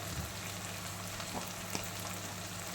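Onions and masala sauté in a pan for Kerala chickpea curry, a steady close hiss of sizzling oil with a faint clink or two of stirring.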